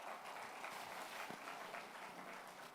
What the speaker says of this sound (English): Let us give a round of applause for the